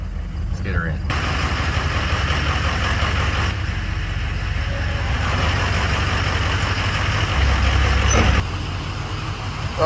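A Ford 6.0 Powerstroke diesel in a studded Super Duty truck idles with a loud, steady low rumble for the whole stretch, and voices talk over it.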